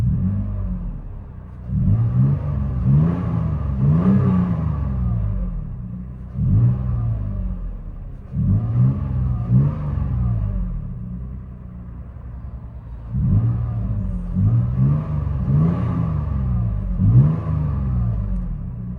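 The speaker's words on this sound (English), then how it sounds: "MAGNAFLOW 18-inch body, duals into black tips. Came out sounding phenomenal." A 2013 Toyota Tacoma with a 4.0L V6 and an 18-inch Magnaflow exhaust with dual black tips revs repeatedly, each deep throttle blip rising and falling over a steady idle rumble, heard up close with no talking.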